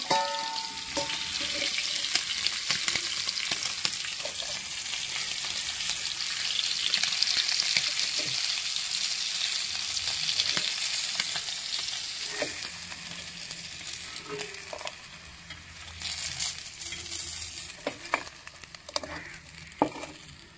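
Fish frying in hot oil in a home kitchen, a loud, continuous close-up sizzle and crackle with occasional clinks and stirring sounds, no talking.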